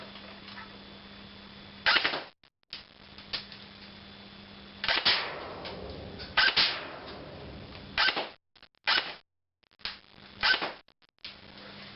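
A Classic Army AKS-47 full-metal underfolding-stock airsoft gun fires 0.25 gram rounds through a chronograph, giving a series of sharp, close snapping shots spaced irregularly over a steady low hum.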